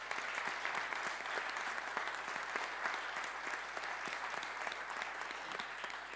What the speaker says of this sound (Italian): Un applauso per Link3D